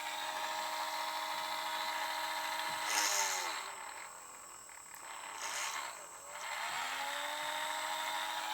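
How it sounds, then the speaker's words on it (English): A Dremel rotary tool on its slowest speed drills 1.8 mm holes in white metal model splashers, giving a steady, close whine that dips and surges briefly as the bit bites. "I'll just use it in my Dremel very slowly on the slowest possible speed."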